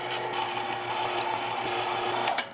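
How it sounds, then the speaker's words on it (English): A meat grinder churns cold sausage meat through a coarse die for Cumberland sausage, a steady close mechanical whir with a low motor hum running throughout, a brief louder clunk near the end. "now that our meat is nice and cold, through the meat grinder we go"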